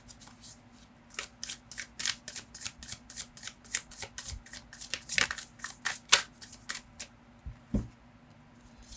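Tarot cards are shuffled and drawn by hand, making a run of soft, crisp riffling clicks and slaps in an irregular rhythm. The sound is close and fairly quiet against a faint background hum.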